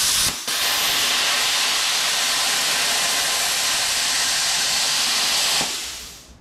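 A compressor-fed plasma cutter pushed beyond its limit on a 20 mm lump of steel gives a loud, steady rushing hiss for several seconds, then cuts out and fades away as the machine loses power.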